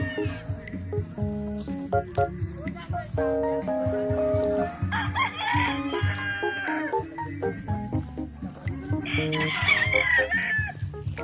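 Many chickens cluck and squawk continuously while roosters crow loudly several times, a busy, crowded flock heard up close at a poultry farm in Pangasinan, Philippines.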